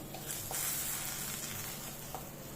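Chillies fry in a pan until browned, giving a soft, steady sizzle and hiss with faint crackles throughout the short stretch.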